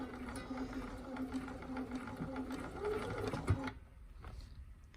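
A sewing machine runs steadily, back stitching over elastic in a close, continuous mechanical whir that stops abruptly near the end, leaving quiet room tone.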